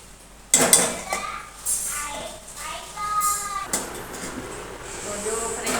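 A spoon clinks and scrapes against a pan while yogurt is stirred into okra curry, with a sharp metallic tap at the start and irregular stirring sounds, as someone talks over them.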